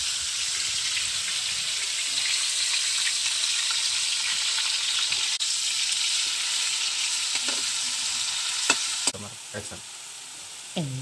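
Onion and ginger-garlic paste fry in hot oil with a loud, steady sizzle, broken near the end by a few clinks and stirring knocks.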